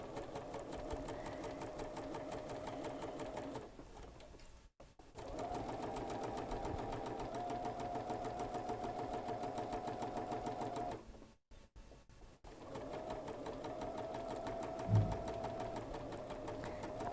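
A home sewing machine with a 1/4 inch presser foot runs a long, steady stitching burst while quilting, pauses briefly, then hums on again in a second continuous run, close and fairly loud with no talk.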